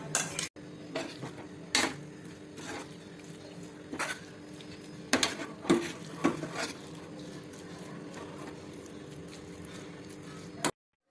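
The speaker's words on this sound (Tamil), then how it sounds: "இதில் போட்டு நல்லா கிளறி வைக்க வேண்டியதுதான்." A spoon scrapes and clinks against a pot while the ground sundal mix for Navarathri is stirred in, giving scattered metallic knocks over about ten seconds of quiet background with no talking.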